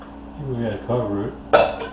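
A lid is set onto a cooking pot on the stove while making rhubarb sauce, giving a sharp metallic clink near the end. It follows a few seconds of speech.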